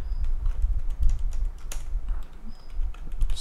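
Rapid clattering keystrokes on a computer keyboard while JavaScript code for a digital clock is typed, close and fairly loud, in uneven bursts with short pauses.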